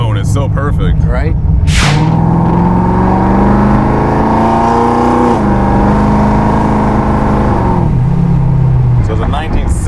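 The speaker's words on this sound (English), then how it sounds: "That engine tone is so perfect." A 1960 Corvette restomod with software-controlled engine management revs strongly from inside the car, its loud, steady engine tone rising and falling in pitch over several seconds, with brief talk at the start and end.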